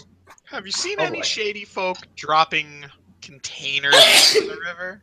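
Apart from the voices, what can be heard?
sneeze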